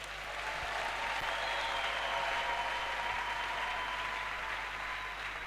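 A church congregation applauds the Lord Jesus with steady, dense clapping that fills the whole stretch at an even, loud level, with a low hum running underneath.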